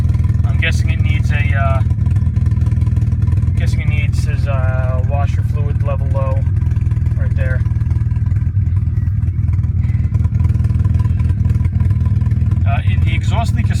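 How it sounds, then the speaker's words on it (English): A 2001 Saab 9-5 with a 3.0 engine idles roughly with a large exhaust leak, a loud, low, steady rumble that continues under someone talking close by. "it's got an exhaust leak"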